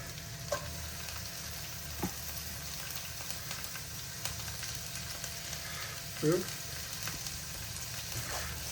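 Ginger, curry leaves, garlic and green chilli sauté in a pan for chicken sausage curry, giving a steady close sizzle broken by occasional spoon scrapes and stirring clatters.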